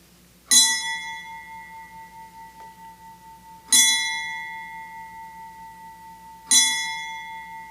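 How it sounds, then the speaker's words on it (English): A ceremonial bell is rung three times at a Georgia State Patrol trooper school graduation, three loud, clear strikes a few seconds apart, each ringing out and slowly fading in a quiet hall. "I'll ask the president of the 120th to dismiss his class by ringing the bell 3 times"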